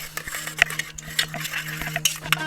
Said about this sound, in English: now we can mix this up, and also we will add the milk which is with the saffron. Continue mixing it.